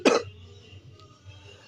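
A single short, harsh cough from a person with a cold, close and fairly loud, followed by quiet room noise.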